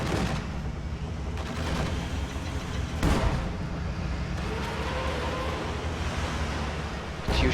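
A Katyusha rocket barrage and gunfire in a wartime video game: a dense, continuous roaring rumble with sharp blasts near the start, middle and end, loud and without speech.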